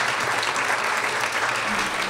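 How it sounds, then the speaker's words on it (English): Audience at a charity luncheon fundraiser applauding, a dense steady wash of many hands clapping throughout, close and full with no pauses. "Please give them a round of applause."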